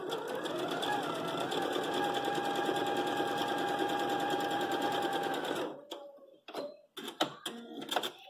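A sewing machine runs steadily for about six seconds, stitching a 1/4-inch seam across an X-string quilt block. The motor then stops and brief handling noises and light clicks follow.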